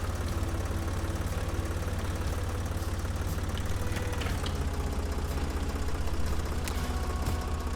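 A tractor engine labouring under a plough in a farming video game chugs steadily with a low, rhythmic knocking drone, strained and continuous, with faint mechanical clatter over it.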